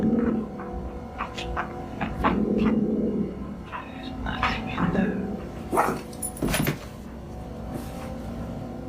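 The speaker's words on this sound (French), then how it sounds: "son petit chien TJ grogne toujours dans le coin de sa chambre" A small dog vocalises near a corner of a bedroom, with close, intermittent growls and short yips spread over several seconds.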